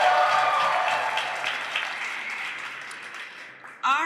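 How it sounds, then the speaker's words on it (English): A rally crowd cheers and applauds for the Montana Constitution. Voices shout and clapping swells at first, then tapers off, and a louder burst comes right at the end. "Let's hear another big cheer for the Constitution!"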